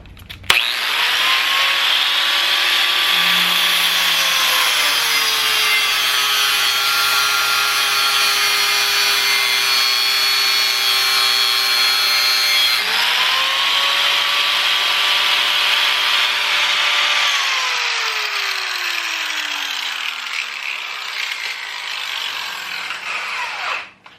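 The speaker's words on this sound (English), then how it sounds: "try to create maximum sparkage right onto the spray foam at a very close proximity" A power tool, likely a grinder, runs at close range throwing sparks onto spray foam insulation, a loud, steady whine with pitch dips as it loads against the material, then spinning down near the end.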